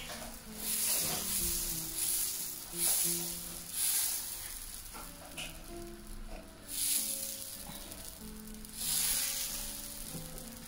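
Dosa batter on a hot pan set between medium and low heat gives a steady sizzle that swells in waves every few seconds, with a faint tonal backdrop and no voices.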